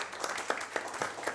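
Audience applause for a speaker at an energy policy panel event, a short burst of scattered claps with a few sharper individual hits, moderately near and fairly quiet.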